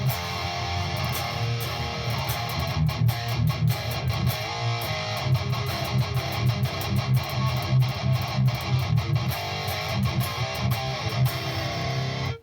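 Electric guitar on a live rhythm tone, playing steady chugging chords with a thick, driven low end and continuous, fairly loud sustain throughout, no voices.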